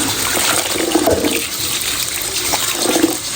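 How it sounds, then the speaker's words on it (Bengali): Taro leaves are washed in running water, a loud, continuous rush and splash close up that swells and eases with the handling of the leaves. "কচু শাকে ধোয়া খুবই কষ্ট"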